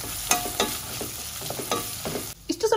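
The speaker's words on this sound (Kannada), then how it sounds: "ಬಟಾಣಿ ಎಣ್ಣೆಯಲ್ಲಿ ಫ್ರೈ ಮಾಡ್ಕೊಳ್ಬೇಕು." Green peas sizzle and spit as they fry in oil in a pan with onions, with a steady crackling hiss and several clattering stirring scrapes throughout, close and fairly quiet.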